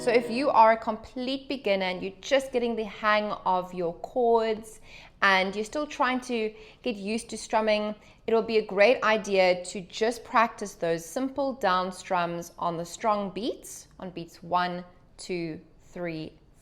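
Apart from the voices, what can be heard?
No distinct noise like a dog, phone or traffic.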